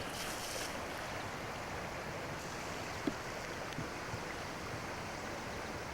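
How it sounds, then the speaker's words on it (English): Swift water of the Rock River race near Tivoli Island, Wisconsin, rushing in a steady broadband wash, with a soft thump near the middle and no voices. "The water is very fast moving."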